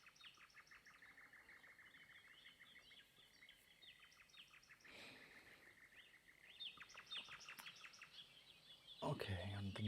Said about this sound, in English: jungle birds maybe.